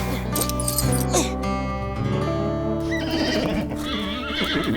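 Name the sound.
foal neighing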